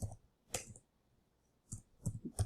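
Short bursts of clicking from typing on a computer keyboard, in separate irregular clusters with a quiet gap in the middle, close and fairly soft, no talk.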